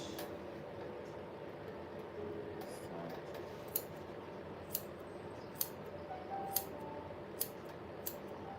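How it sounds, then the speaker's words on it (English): Crisp scissor snips cutting wig hair, about six sharp cuts spaced roughly a second apart, close by over a quiet background hiss. "first I'm gonna cut it with the scissors to get a guide."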